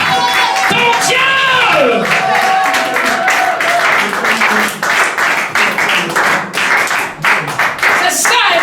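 A church congregation at a worship service claps and cheers loudly and continuously, with voices shouting and singing mixed into the crowd noise throughout.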